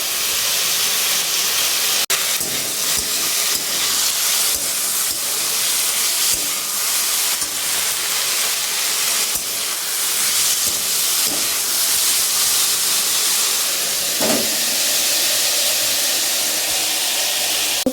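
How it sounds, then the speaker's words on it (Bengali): Bori lentil dumplings and potatoes fry in hot oil in a home kitchen, giving a steady, close hiss that runs without a break, with a few faint clicks and knocks. "তেল দিয়ে বড়িগুলো ভেজে আর আলুটা দিয়ে দিয়েছি।"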